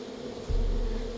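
Loud, steady buzzing of an angry bee hive in the video game Far Cry 5, droning low and swelling up close about halfway through with no talk over it.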